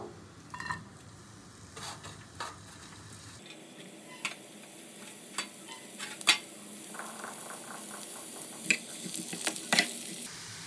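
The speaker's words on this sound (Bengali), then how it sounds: "আমি এখানে ছোট প্যানের মধ্যে আগে বেরেস্তাটা করে নেব।" Onions fry into crisp beresta in a small pan, a faint steady sizzle broken by scattered clinks and scrapes of a utensil against the pan, growing busier toward the end.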